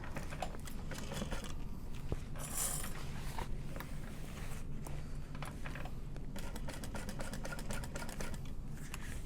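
A sewing machine topstitching a handbag, running in steady mechanical bursts with a rapid needle clatter, close and fairly quiet, with brief pauses between runs.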